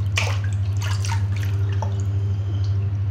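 A phone sealed in a ZOE waterproof bag for an iPhone 4/4s is lowered into water, giving a few soft splashes and drips over a steady, loud low hum, with no talking.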